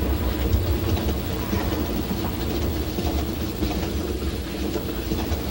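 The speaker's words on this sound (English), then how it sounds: "I hated flying, so I took the train." A passenger train travelling from Los Angeles to Las Vegas rolls along the rails with a steady rumble and rhythmic clickety-clack, heard from inside at a constant moderate level.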